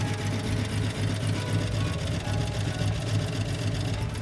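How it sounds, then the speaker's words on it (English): The engine of an old abandoned Ford Econoline van, just revived, idles steadily close by. It gives a continuous, even mechanical rumble with a fast regular chug, and there is no talking over it. "It even idles."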